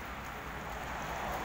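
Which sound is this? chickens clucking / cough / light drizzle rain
light drizzle rain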